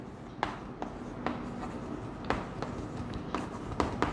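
Pen scratching on paper while a Class 10 triangles geometry problem is worked out, with a few short sharp strokes standing out over a steady quiet scratch and no talk.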